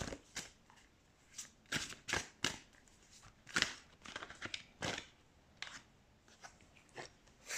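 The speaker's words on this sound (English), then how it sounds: "Let's shuffle cards to see." Tarot cards are shuffled by hand in a quiet room, a series of soft, brisk riffles and slaps in irregular bursts, close and faint, with no voice over them.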